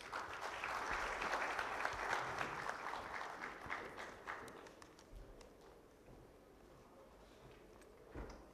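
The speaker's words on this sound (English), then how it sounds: "Let's give him a big round of applause." An audience at a morning conference session applauds for a minister, with loud dense clapping that gradually thins into scattered claps.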